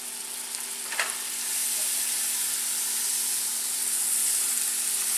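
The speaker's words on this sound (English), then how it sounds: "Because it's so hot, it's really just going to brown your butter pretty quick." Butter browns quickly in a very hot preheated pan for a Dutch baby, giving a steady close sizzle and hiss that swells slightly louder midway, with one brief tap near the start and no talking.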